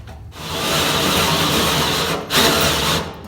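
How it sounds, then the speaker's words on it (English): A power drill bores a hole through the top of a steel fuel tank for a 1967-72 Chevy truck, a loud steady whirring grind lasting about three seconds, with a brief surge near the end and no talking. "Our next step will be to bore the hole in the top of the tank for the fuel pump."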